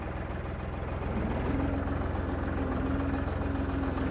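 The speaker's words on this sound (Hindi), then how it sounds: "चलिए, मैं ट्रैक्टर पे चढ़ गया हूँ" A tractor engine runs steadily at close range on a farm in Punjab, a loud, even idling rumble with a rhythmic knocking pulse that holds for about four seconds with no talk.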